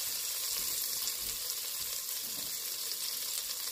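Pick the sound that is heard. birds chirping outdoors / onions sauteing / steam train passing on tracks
onions sauteing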